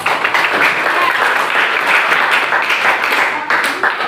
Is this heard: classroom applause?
yes